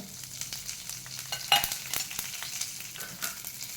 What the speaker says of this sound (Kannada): ಅದೇ ಚಮಚದಲ್ಲಿ ಉದ್ದಿನಬೇಳೆ ಹಾಕಿಕೊಳ್ಳಿ, ಒಣಮೆಣಸು, ಬೇಸಪ್ಪು, ಕರಿಬೇವಿನ ಎಲೆದು